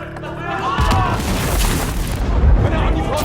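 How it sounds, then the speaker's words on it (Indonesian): A deep, booming grenade explosion bursts out and rolls into a heavy rumble that lingers for a few seconds. "Meski akhirnya situasi menjadi chaos saat Lassen melempar granatnya."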